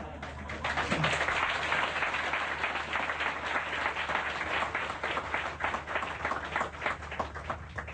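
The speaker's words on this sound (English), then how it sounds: "When I talk about money, your eyes lit up and you clap so loud." A large lecture audience claps loudly, a dense sustained wave of applause lasting several seconds that eases only slightly toward the end, with no voices over it.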